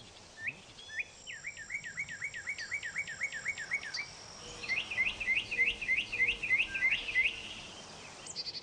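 A thrush sings repeated rising, whistled phrases, first one series then a brighter second run, mimicry-like and clear against a quiet background.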